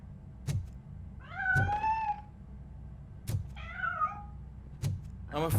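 A cat in the RoboCop: Rogue City video game meows twice, two clear drawn-out calls, between sharp thuds and a low steady background hum, with no talk.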